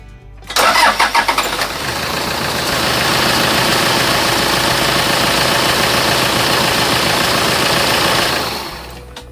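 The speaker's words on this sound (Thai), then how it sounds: "ลอง มาดูว่าสตาร์ททีเดียวติดไหมลากยาวไหมนะครับ" A car engine cranks with rapid chugs, catches after about a second, and settles into a loud, steady idle close by that runs for several seconds before cutting off, with no talking.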